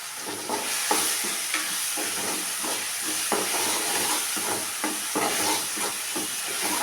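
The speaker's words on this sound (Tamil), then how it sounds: "கொஞ்ச நேரம் வதக்கி விட்டுட்டு" Drumstick leaves and crushed garlic sauté in a hot pan, giving a steady sizzle and hiss broken by repeated stirring scrapes, close and continuous with no talking.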